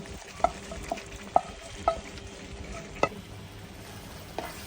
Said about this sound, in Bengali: এখন সবগুলো মিশিয়ে ভালো করে কষাতে হবে